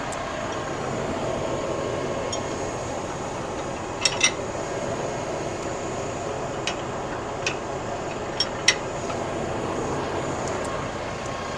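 Tractor engine idling steadily at a vineyard beside a Pellenc EOLE grape sprayer being switched to a picking head, a constant low rumble with a few sharp metallic clicks and knocks.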